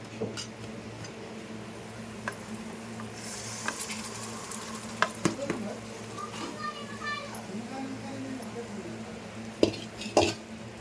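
Pieces of fried fish are tipped into a pan and stirred, making scattered scrapes, clinks and a low sizzle close by over several seconds, with a voice talking through much of it.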